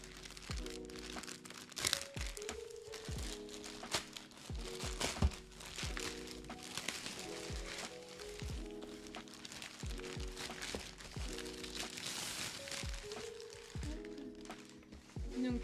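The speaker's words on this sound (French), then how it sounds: "Donc on va ouvrir tout ça ensemble." Someone unpacks a bubble tea parcel, and the plastic and paper packaging crinkles and crackles continuously at close range, faint, with a soft hum beneath it.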